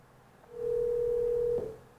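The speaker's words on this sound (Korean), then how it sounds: "전화 연결 좀 해보도록 하겠습니다" A steady single telephone tone sounds while a call is being connected for a Korean radio-style talk segment, holding evenly for about a second before cutting off, loud and alone with no talk over it.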